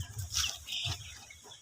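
Free-range broiler chickens cluck briefly close by, a couple of short clucks over low outdoor background noise.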